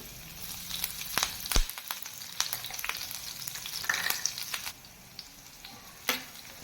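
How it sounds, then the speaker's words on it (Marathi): Cumin, garlic and green chilli crackle in hot oil for a dal tadka, a soft continuous sizzle dotted with sharp pops and spatters, close and without voices. "जिरं व्यवस्थित तडतडलं की आपण त्यामध्ये आता घालून घेणार आहोत लसूण"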